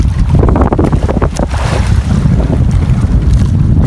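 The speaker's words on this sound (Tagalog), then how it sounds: "Oh, malaki na alon." Big waves and strong wind surround a small boat at sea, loud gusting wind buffeting close to the microphone over a rushing wash of water, with no talk.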